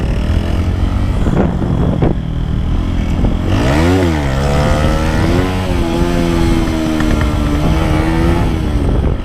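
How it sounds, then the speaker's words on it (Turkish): A motorcycle with a worn cylinder and piston runs hard at high speed on an Istanbul road, its loud engine rising in pitch as it accelerates, with steady wind and road roar throughout. "egzoz fena patlatıyor"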